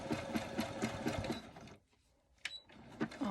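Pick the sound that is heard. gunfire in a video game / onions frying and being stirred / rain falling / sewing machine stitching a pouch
sewing machine stitching a pouch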